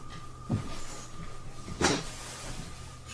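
A door opens with two distinct knocks or clunks about a second apart over a constant low hum, with no voices.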